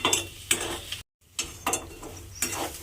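Chopped coriander is stirred into a mash of rui fish and potatoes, giving repeated scraping strokes in a steady rhythm, close and moderately loud, with a brief silent gap partway through.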